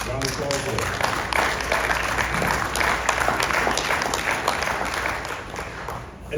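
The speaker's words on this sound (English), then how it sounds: "round of applause for that" An audience at an annual awards dinner bursts into sustained applause, thick continuous clapping at fairly close range that holds steady before dropping off near the end, with a speaking voice mixed in.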